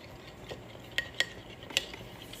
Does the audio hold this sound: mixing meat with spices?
yes